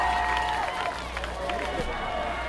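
Fans at a night high school football game between Milan and South Gibson roar in the fourth quarter as a broad, distant crowd noise with scattered claps, under steady play-by-play commentary.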